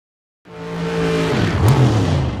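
A drag racing dragster launching down the strip at a Spring Fling Million event, a loud engine roar that bursts in suddenly and swells into a sustained, rising howl with a tire-squeal edge.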